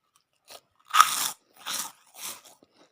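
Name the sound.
crunching ketchup-flavoured potato chips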